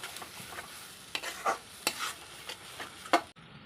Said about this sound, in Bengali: এই চিংড়ি মাছের সাথে এখন আমি মশলাটাকে মিক্সড করে নেব।